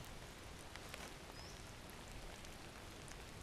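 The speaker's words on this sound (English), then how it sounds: "it's bloody raining. Again, drizzling." Steady, soft hiss of light drizzle falling at an outdoor camp, even and continuous with faint scattered drops, no other sounds.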